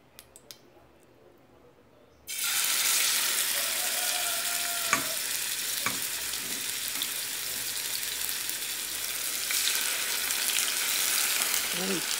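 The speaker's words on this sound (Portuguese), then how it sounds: "agora eu coloquei o óleo para esquentar para colocar o frango." Chicken pieces drop into hot oil in a pan, setting off a loud, steady sizzle after two seconds of near silence that keeps crackling and swells slightly near the end.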